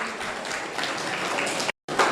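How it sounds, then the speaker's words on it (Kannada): An audience at a government home science college in Hassan gives a sustained burst of applause during a youth competition. The clapping is dense and even and briefly cuts out near the end. "ಒಂದು ಜೋರಾದ ಚಪ್ಪಾಳೆ"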